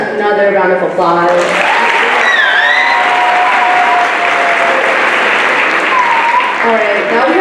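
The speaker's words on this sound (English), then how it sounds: "deserves another round of applause." An audience at an international student assembly applauds loudly and steadily for several seconds, the clapping carried under a presenter's voice and a few sung or spoken tones near the start.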